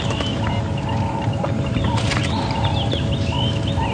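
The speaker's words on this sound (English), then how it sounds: "the ubiquitous and very stridently loud francolin" A francolin calls loudly and stridently in the bush at Djuma Game Reserve during a morning safari drive, its harsh repeated notes ringing out over a constant low engine rumble.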